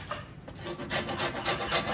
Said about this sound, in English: So here, Viorica and Florina is going to do the orange zest and